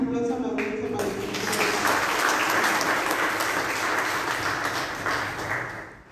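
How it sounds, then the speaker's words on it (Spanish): A large audience at an educational event breaks into steady, loud applause that swells quickly after a brief bit of speech and holds for several seconds before tapering slightly. "Le pedimos un aplauso a la audiencia para él."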